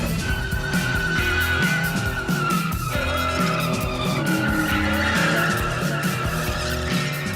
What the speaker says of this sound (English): He likes to go to these places where all these young boys get together and do burnouts